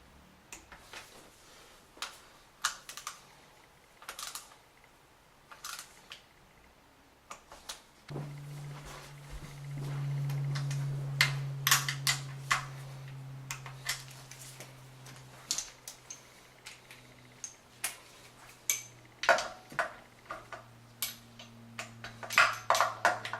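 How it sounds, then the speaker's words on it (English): A torque wrench tightens M6 bolts to 10 newton metres during an M52 engine overhaul, giving sharp, close ratcheting clicks in irregular bursts, with a low steady hum joining partway through. "these are all M6 bolts, so 10 Newton meters is the torque spec. And we're just going to torque all these down"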